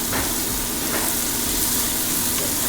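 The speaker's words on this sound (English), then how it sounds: "add your 4 cloves of chopped garlic. Put that in there. Mix that in a little bit." Chopped garlic sizzles steadily in a pot of frying cabbage soup, a constant dense crackle and hiss as it is stirred in, with no talking.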